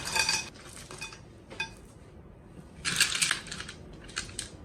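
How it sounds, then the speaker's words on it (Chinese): Watermelon chunks being mixed with sugar in a bowl, heard as uneven bursts of clinking, scraping utensil strokes and wet crushing, with quiet gaps between them. "再给它搅拌均匀"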